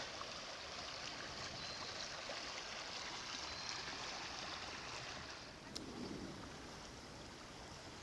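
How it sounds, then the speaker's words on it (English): Steady rushing water from a shallow, rocky creek, Antietam Creek, fills the clip, constant and close, as if drifting along on the current in a boat. "Just floating down the creek."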